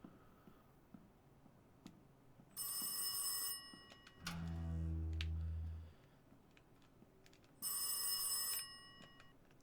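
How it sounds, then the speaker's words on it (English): Old-style telephone bell rings in bursts inside the horror game Rise of Insanity, two loud ringing spells separated by a deep low drone, then a third ring near the end, with no talking. "and now I can answer the phone"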